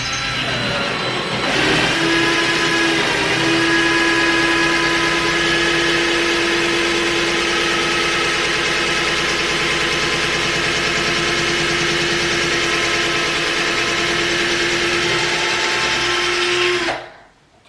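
A power drill on setting 13 bores a large bit into a wooden wall, giving a loud, steady, high motor whine that runs for about fifteen seconds before stopping abruptly.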